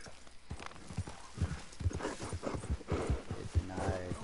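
Horse hooves clip-clopping in the Red Dead Redemption 2 video game, a quick run of soft, close knocks under faint game sounds, ending with a low snort or whinny.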